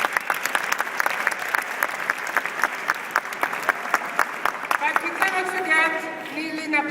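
Audience applause at a Lucia crowning ceremony during a Christmas fair at the Shrine Auditorium, steady dense clapping from a crowd throughout, with a voice speaking over it toward the end.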